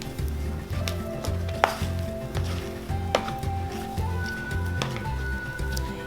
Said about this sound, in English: So just knead it enough to mix in that salt and soda and powder